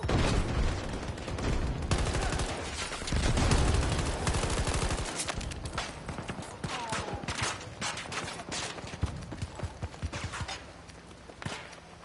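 Dense Battlefield 2042 gunfire, close automatic bursts and scattered shots rattling almost continuously over twelve seconds, with louder volleys early and a sparser exchange later, some mechanical clatter and footsteps in the mix.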